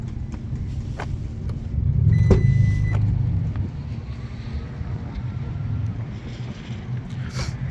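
A power liftgate on a 2023 Toyota Grand Highlander XLE opens with a brief, low motorized hum and whir. The sound swells for a second or two against steady outdoor rumble and light wind noise.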